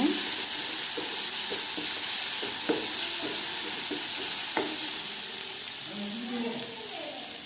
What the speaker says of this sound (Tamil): நல்லா பச்சை வாசனை போகிற அளவுக்கு வதக்கலாங்க